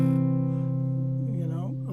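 A guitar chord voiced with whole-tone tension rings out sustained and fairly soft, its notes holding steady before they bend and waver toward the end.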